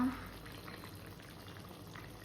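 Potatoes boiling in a pot on a home stove, a steady soft bubbling and simmering hiss that continues evenly throughout, faint and close.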